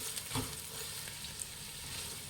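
Garlic frying in hot oil for hotel-style egg fried rice, a dense continuous sizzle heard up close with a couple of faint stirring knocks.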